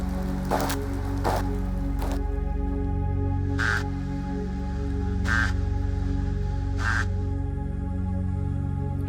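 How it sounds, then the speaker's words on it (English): Singing fish recorded underwater, a steady low murmuring bed broken by a few scattered clicks and then three evenly spaced croaking calls, fairly close with no voices. "What you're hearing right now are fish."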